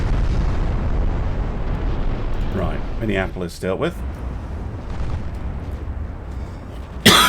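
Naval gunfire and explosions crash through a video game sea battle with heavy cruisers firing 10-inch guns, a dense continuous rumble of blasts running throughout, with a voice talking over it and a sharp burst near the end.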